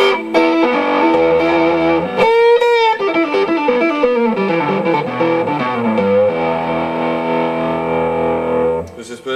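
Tom Anderson Atom electric guitar through a Route 66 pedal for light compression and distortion, sustained chords and a bent note ringing out loudly with a warm, slightly driven tone.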